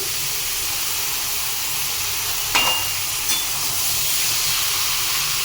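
Food frying in a pan gives a steady, loud hiss and sizzle, with a couple of brief scraping clicks from stirring near the middle.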